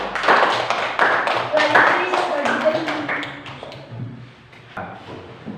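A classroom of students claps together in a burst of applause, dense and close at first and then thinning out, with voices talking over it.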